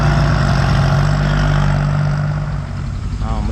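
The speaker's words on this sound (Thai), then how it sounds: "มันครับรถไถสองคันด้วยครับ" Two farm tractors run their engines in a loud, close, steady low drone that eases slightly toward the end, with a brief faint voice near the finish.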